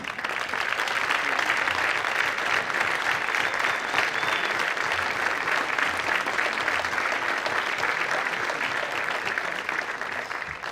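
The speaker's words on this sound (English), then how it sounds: "everybody give them a round of applause for all their hard work" Sustained applause from a banquet audience at a Connecticut women's basketball hall of fame ceremony, dense and even clapping for about ten seconds with no break.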